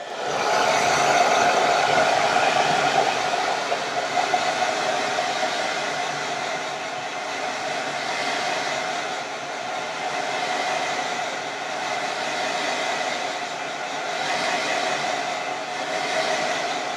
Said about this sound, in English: so I'm just going to get my hairdryer